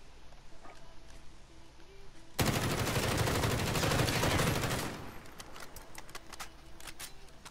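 Gunfire in a video game, a sustained loud burst of rapid automatic shots lasting a few seconds, preceded and followed by quieter ambience with scattered single shots.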